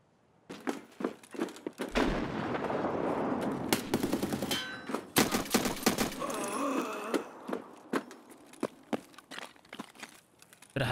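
RFB rifle shots in Escape from Tarkov, a string of sharp, loud cracks with metallic clangs, plus a sustained noisy stretch of rapid fire and rattling in between.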